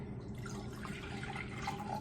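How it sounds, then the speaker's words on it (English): Milk poured from a measuring cup into a bowl, a soft continuous trickle and splash lasting a couple of seconds, close and fairly quiet with no talk. "So there's my 2 cups of milk, and now I'm going to pour that into this bowl."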